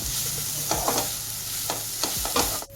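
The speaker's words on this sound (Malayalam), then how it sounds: "ഇതിൻ്റെ ഒരു പച്ച മണം മാറുന്നത് വരെ നമുക്കൊന്ന് ഇളക്കി കൊടുക്കാം." Raw papaya thoran is stirred in a hot pan, giving a steady sizzle broken by several quick scraping strokes of a spoon, close and alone with no one talking.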